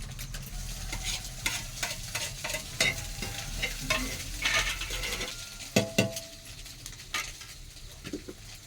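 Chopped onion, green chili and carrot frying in a pan, a steady close sizzle broken by scraping stirs and light clinks of the spoon against the pan.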